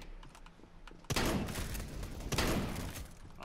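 Loud shotgun blasts in the video game Counter-Strike: Global Offensive, two heavy booming shots about a second apart, with keyboard clatter and faint game noise in between.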